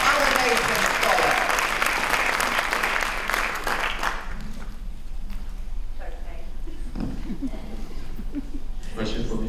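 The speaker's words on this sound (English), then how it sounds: "I want a big round of applause for Dubai and what it's doing." A big crowd at a panel discussion on classroom happiness bursts into loud applause that gradually thins into scattered claps and murmuring voices.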